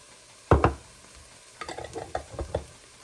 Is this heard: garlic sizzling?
yes